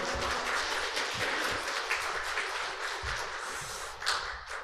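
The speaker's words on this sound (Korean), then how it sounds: "할렐루야 하면서 박수로 환영하도록 하겠습니다." Applause from a church congregation at a Sunday service welcoming a missionary speaker, a burst of clapping with uneven rhythm and a few louder claps, fairly close and continuous throughout.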